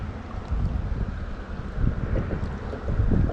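Wind gusting at a lakeside bank while bank fishing, a continuous low rumbling buffet against the microphone that swells and eases in pulses, without any voices.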